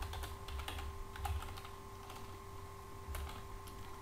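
Quiet, steady tapping on a computer keyboard, a short run of soft clicking keystrokes under a constant low hum from nearby equipment.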